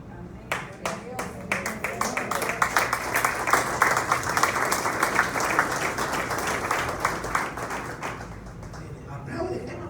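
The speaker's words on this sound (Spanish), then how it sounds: "Aplaude, están aplaudiendo." A church congregation claps during a sermon, starting with a few scattered sharp claps and building quickly into dense, sustained applause. The clapping fades out near the end while voices carry on in the background.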